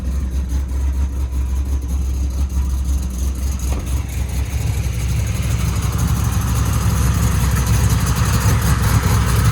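Ford Mustang Bullitt V8 engine idling steadily at close range, a loud, even low rumble holding constant throughout with no talk.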